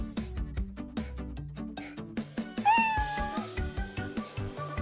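A cat meows a few times, a clear rising call over busy, rhythmic background music, close and prominent.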